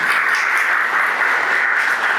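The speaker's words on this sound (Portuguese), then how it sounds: "Uma salva de palmas para a equipe gestora, professores, pais que também estão presentes." Audience applause at a school-related lecture event, steady dense clapping filling the room at even loudness for a couple of seconds, with no voices over it.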